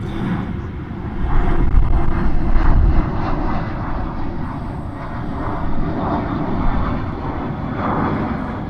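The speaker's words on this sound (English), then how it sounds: "The plane's really, really loud." Airplane flying overhead during an outdoor exercise session, a loud continuous engine roar that swells and holds steady throughout, with no talk.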